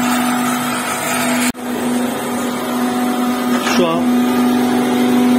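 A grinder resurfaces a welded, corroded engine cylinder head during a rebuild, giving a loud, steady motor drone with a constant whine that drops out briefly once, while someone speaks over it.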